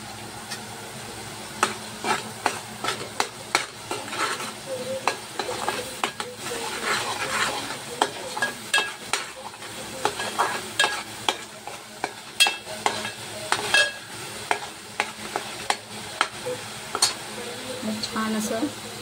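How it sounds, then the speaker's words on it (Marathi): Masala with Maggi masala and Kashmiri red chili powder roasting in oil in a pan, stirred with repeated sharp scraping strokes over a steady sizzle, with faint talk in the background. "छान असं तेल सुटेपर्यंत भाजून घेऊया।"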